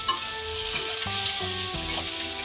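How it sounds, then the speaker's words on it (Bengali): Vegetables frying in a pan for a spicy small-fish chorchori, with a steady soft sizzle running under music. "এইভাবে কিছুক্ষণ আমি সবজিটাকে একটু ভাজবো"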